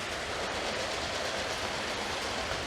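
Three motorized Lego trains, including a newer passenger train, run together on plastic track, giving a steady, even whir and rolling rumble with faint rhythmic clicking throughout and no voices.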